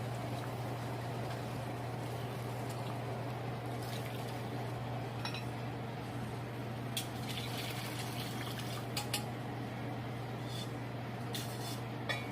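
Broth pours into a hot beef stew pot to deglaze it, a steady liquid rush and sizzle running throughout under a low kitchen hum, with a few faint clinks of a utensil against the pan.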